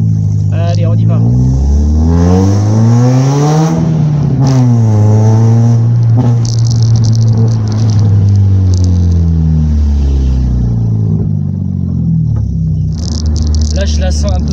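A car engine with its original air filter refitted revs and accelerates loudly through the gears, pitch sweeping up then dropping with each shift, close and continuous throughout.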